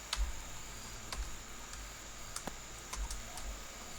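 Keys tapped on a computer keyboard while code is entered in an editor, building a Bootstrap student registration form; sparse, irregular clicks in small bursts against a quiet room hum, no talking.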